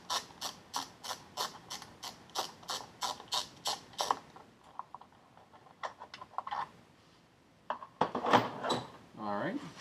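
A ratchet removes two screws from the wastegate cover of a Dodge Dart 1.4L: a steady run of rapid, close clicks, then a few scattered mechanical taps, with someone talking near the end.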